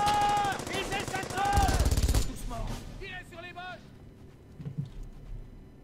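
A short burst of machine-gun fire rattles in the WWII shooter Brothers in Arms: Hell's Highway during Operation Market Garden, mixed among game sounds while people talk over it.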